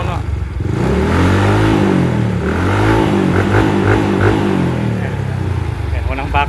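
A Mio i 125 motorcycle engine on a DIY-tuned ECU revs up close and loud, its pitch sweeping upward and falling in repeated waves before settling at a high idle, with mechanical clatter underneath.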